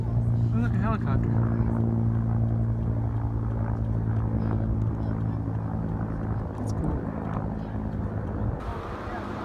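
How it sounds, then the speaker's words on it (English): Helicopter overhead, a loud steady rotor and engine drone with low throbbing hum that holds throughout, with people talking nearby. "Oh, look, a helicopter."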